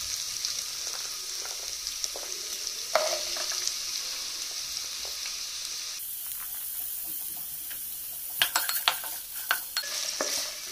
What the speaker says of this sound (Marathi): बरे करून स्टर करून घेऊया.